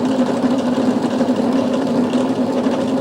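The electric motor of a 5-inch gauge electric locomotive runs at low throttle, giving a steady, even hum with a fine buzzing texture. It sounds close and continuous, with no talking.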